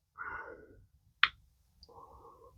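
A single sharp snip of pliers cutting through plastic on a 1/72 scale model part, close and crisp, between soft rustling handling noises.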